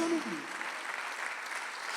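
A church congregation at a Sunday worship service applauds, a soft, even patter of many hands clapping that follows a brief spoken word from the pastor.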